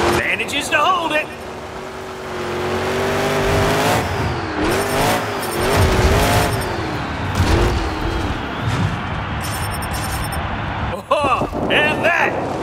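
Thunderroarus monster truck in a Monster Jam freestyle run during a sky wheelie: a loud engine roaring and revving with shifting pitch and some tire noise, with arena commentary talking over it throughout.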